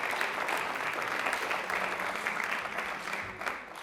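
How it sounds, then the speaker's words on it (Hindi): A studio audience on the Doordarshan Rajasthan quiz show Prashnottari gives a short, even round of applause for a guest. The clapping is moderately loud and dense, with no speech over it, and thins slightly toward the end. "तालियां एक बार जोरदार दीक्षिता मैम के लिए।"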